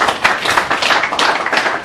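Audience clapping on a television studio set to welcome the invited guest, a brisk, uneven patter of hands at close range with no voices over it.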